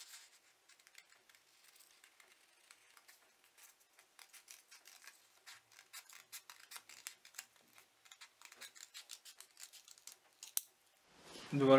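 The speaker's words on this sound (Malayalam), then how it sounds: "ഇനി നമുക്കിത് കട്ട് ചെയ്തെടുക്കാം." Scissors cut shirt collar fabric in a long run of quick, faint snips close by, ending with a louder burst of handling noise.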